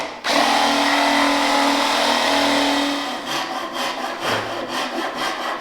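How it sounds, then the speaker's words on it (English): A Japanese pull saw cuts a hole through a laminate floor board, a loud steady rasping stroke held for about three seconds, then quicker back-and-forth strokes close by with no talking. "I quite like the Japanese pull saws for this."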